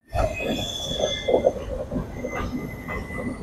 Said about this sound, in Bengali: ট্রেন ছুটে চলেছে 128 কিলোমিটার পার আওয়ারে